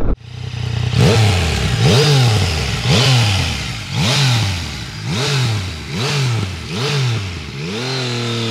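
A Yamaha Tracer 9 motorcycle accelerates hard through repeated gear changes, its engine note climbing and dropping again about once per second over eight seconds, loud and close, with no talk.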